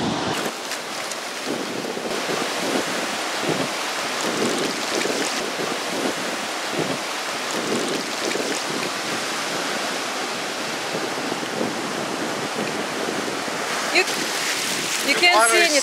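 Ocean waves at a beach in Jacksonville, Florida, a loud continuous wash of surf that fills the scene, with people talking throughout.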